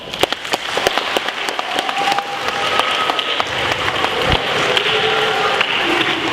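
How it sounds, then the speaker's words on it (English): A group applauds, sharp claps loud and close at first then blending into a steady wash with some tonal background sound, no speech over it. "So give yourselves a round of applause"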